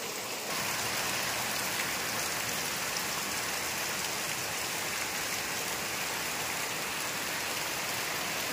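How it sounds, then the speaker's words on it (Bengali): Heavy rain pouring steadily outdoors, a dense, loud, unbroken hiss of drops striking surfaces for the whole stretch, with no voices. "দেখো কত বৃষ্টি হচ্ছে"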